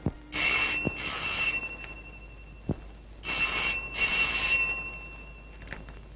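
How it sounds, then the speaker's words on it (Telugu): An old-style telephone bell rings in two double bursts separated by a pause, fairly close, with a few clicks in between. "మీ అన్నయ్య అనుకుంటాను, ఫోన్ ఎత్తు."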